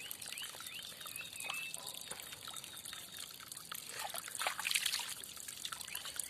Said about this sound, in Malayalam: നമുക്ക് വെള്ളം ഇവിടെ നിന്ന് തുറന്നു വിടാം വെള്ളം പോട്ടെ